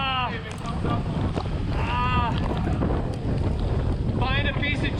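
Strong gusty wind buffets the microphone at a marina in Madeira Beach, Florida, a constant low rumble with rising surges, while voices talk intermittently underneath.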